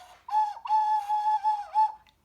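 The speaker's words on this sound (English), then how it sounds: "yeah, it's a pretty whistle." A pretty whistle is blown in several steady, clear tones, a short toot then a longer wavering blast and a final brief note, close and alone.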